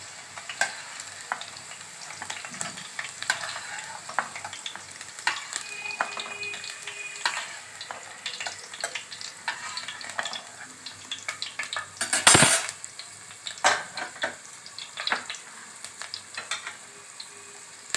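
Carrots and raisins fry in a pan for a mushroom curry, a steady close sizzle broken by scraping stirs and a sharp clatter of a utensil against the pan near the middle, with no talking.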